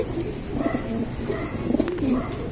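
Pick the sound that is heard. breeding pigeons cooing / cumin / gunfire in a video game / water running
breeding pigeons cooing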